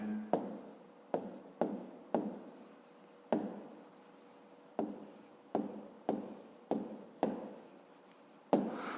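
A pen scratches across paper as a math explanation is written out by hand, in a series of short, close scribbling strokes separated by brief pauses, quiet and without talk.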